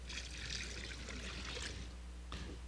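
Apple cider pours into a brine of brown sugar, kosher salt, peppercorns, juniper berries and clove, a soft steady trickle of liquid lasting a couple of seconds before a brief splash at the end.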